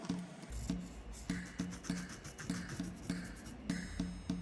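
Short, rhythmic scratchy strokes of an oil-based marker pen across a painted mask, repeating about twice a second, close and fairly quiet.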